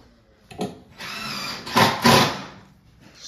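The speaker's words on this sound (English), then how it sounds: "This drill's very loud." A power drill in a Roblox video game runs in a loud, steady whine for about two seconds and swells briefly near the end, with a few short knocks before it starts.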